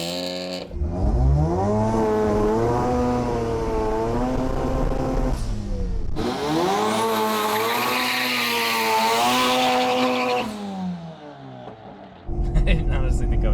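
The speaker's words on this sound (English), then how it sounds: "A nice little pull, just shows you that the car's definitely got it." An LS-swapped Corvette, a rotary car converted to V8, accelerates hard. Its engine note climbs through a long pull, shifts once, then climbs again, loud and close throughout.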